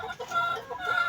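Chickens kept for breeding cluck in short, repeated bursts close by, with a few drawn-out higher calls mixed in, and no voices heard.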